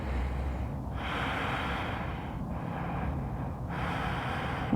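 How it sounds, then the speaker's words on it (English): Slow, steady breathing in through the nose and down into the belly, a close, soft airy rush that swells and fades over several continuous inhalations with no talking. "Breathing through the nose."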